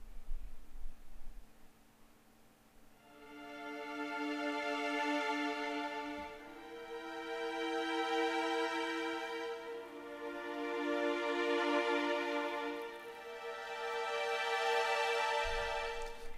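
Two key-switch articulations of 8Dio Adagio violins layered together, giving a firm attack plus a lush sustained tail; three slow swelling string chords rise and fall, played alone with no voices.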